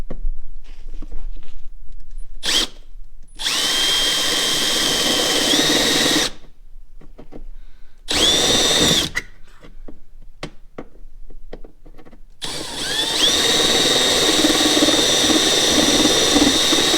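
Power drill running in bursts on a car restoration of an LS3-swapped BRZ, loud and close, several whining runs separated by short pauses, with a long steady run at the end.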